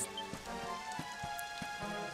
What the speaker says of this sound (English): I'm back out into the rain.